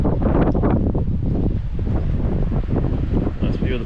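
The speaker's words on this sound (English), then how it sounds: "It's a horrible windy day." Strong gusts buffet the microphone on a windy hillside near Wollongong's bush track, a loud, continuous roaring rumble with fluttering surges throughout.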